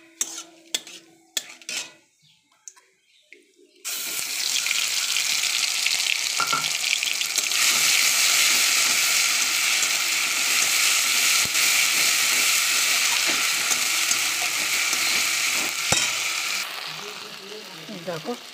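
Cumin, bay leaves and a paste of onion, ginger, garlic, cumin and coriander hit hot oil in a wok, a loud steady sizzle after a few light utensil clinks, broken by occasional stirring scrapes.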